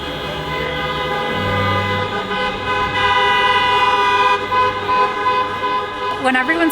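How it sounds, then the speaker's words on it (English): Audience cars honk their horns at a drive-in opera performance, several sustained, overlapping toots forming a loud, continuous blare with voices mixed underneath. "everyone started honking their horns"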